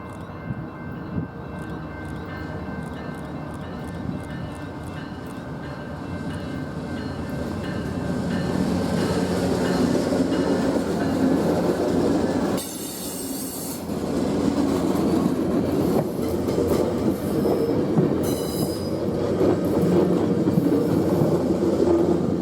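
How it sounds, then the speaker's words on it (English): A southbound train rolls past a St. Michael's Drive crossing in Santa Fe County, New Mexico, with locomotives pulling; a loud, close, continuous rumble of wheels and cars swells, with squealing and clacking as it goes by. "see this train once again, this time heading south with the locomotives pulling"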